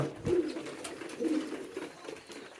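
Pigeons coo softly and repeatedly nearby while being fed, low burbling calls rising and falling with light background rustle.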